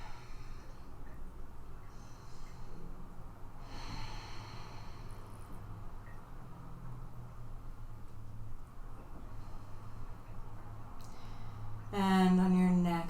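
Slow, deep breathing during a supine twist in a yoga flow, soft steady air heard under faint background hum, with a brief louder tonal sound at the end.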